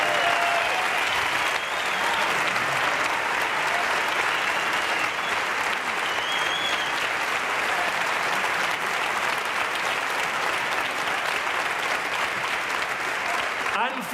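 Loud, sustained applause fills the hall at a performing arts awards gala as the crowd cheers a band, a dense steady roar of clapping that lasts throughout with faint voices mixed in.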